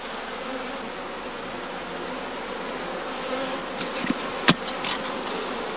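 Honeybees around straw skeps after a swarm make a dense, continuous buzzing hum that fills the whole stretch, with a few louder passes from single bees near the end.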